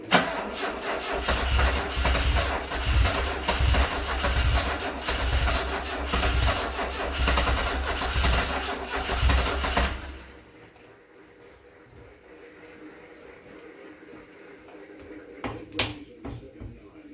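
A 1974 Alfa Romeo engine fitted with new spark plugs cranks loudly with a rhythmic churning pulse for about ten seconds, then cuts off abruptly, leaving near quiet with a few small knocks.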